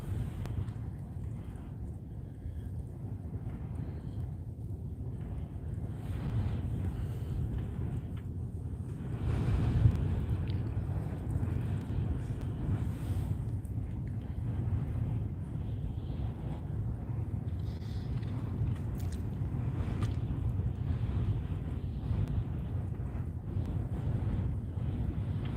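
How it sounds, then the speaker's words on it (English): Strong wind of around sixty miles an hour blows outdoors as a faint, continuous low roar. It buffets the microphone steadily throughout, with one brief louder gust partway through. "Yeah, super windy, 60-mile-an-hour winds."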